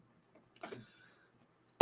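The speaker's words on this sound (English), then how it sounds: "I still have this cough from like a month ago" A lingering cough from about a month earlier: one faint throaty cough sounds early, then a sharp, louder cough bursts out at the very end against near silence.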